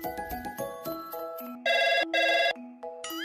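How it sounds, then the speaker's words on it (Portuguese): A telephone rings with electronic ringtone tones, a run of bright beeps and two longer loud bursts, close and alone with no talking. "Vou ligar pro Bruno e ele vai me ajudar"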